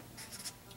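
A pen or pencil scratches out a quick math problem on paper, a few short faint strokes in a quiet room.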